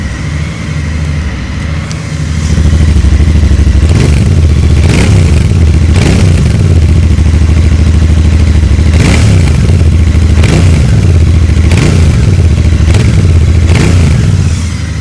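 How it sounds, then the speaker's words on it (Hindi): A Royal Enfield Interceptor Bear 650 scrambler with a 650cc twin and single exhaust idles with a loud, close, thumping note, then revs in several repeated blips over a steady rumble, with no talk. "आप सुनाते हैं आपको इस बाइक का एग्जॉस्ट नोट"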